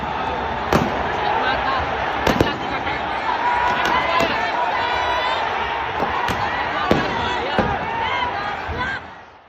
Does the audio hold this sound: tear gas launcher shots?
yes